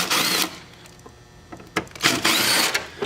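A power screwdriver whirs in two short bursts as screws come out of the front plate on a Canadian Spa Company hot tub control pack, loud and close, with a quieter pause in between.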